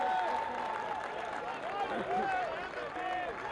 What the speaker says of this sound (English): Good applause for the captain